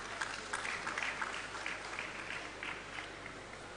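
Conference audience at Digital Nigeria 2023 clapping steadily in a dense, even wash of many hands that holds for the whole stretch, moderately distant and without speech.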